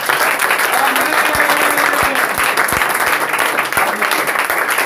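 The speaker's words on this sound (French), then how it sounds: "applaudissons pour le Seigneur" A church congregation at a prophetic evening service in Côte d'Ivoire applauds with dense, loud, steady clapping, low thumps of drum or stamping scattered beneath it throughout.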